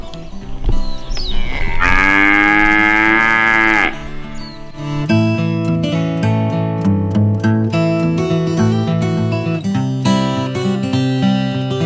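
A loud, drawn-out cow moo rises and falls near the start, followed by rhythmic music with plucked and percussive notes continuing to the end.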